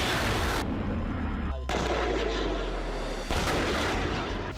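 Heavy, rumbling blasts of distant artillery fire in wartime Kherson, Ukraine, with deep booms and dense broadband roar running continuously through the clip.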